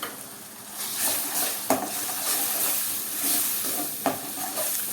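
Grated tomato added to onion, garlic and ginger sautéing in a pan for a green chickpea curry, a steady soft sizzle with a couple of sharp stirring clinks, no talk.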